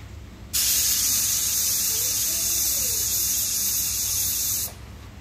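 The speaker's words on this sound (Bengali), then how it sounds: "তারপরে এবার আমি ঢাকনাটাকে লাগিয়ে 2 থেকে 3খানা সিটি মারবো" Pressure cooker with its lid on releasing steam, cooking a Bengali peas pulao: one loud, steady hiss that starts abruptly, holds for about four seconds, then cuts off, close to the microphone.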